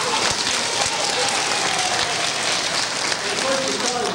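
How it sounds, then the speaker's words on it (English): A school audience at a 1982 magic show gives the magician's assistant Darla a round of applause: dense, loud, continuous clapping that stays even from start to finish. "Let's give Darla a nice round of applause."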